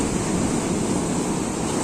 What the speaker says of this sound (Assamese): ঢৌ পুৰা স্পীডত আহি আছে দেই।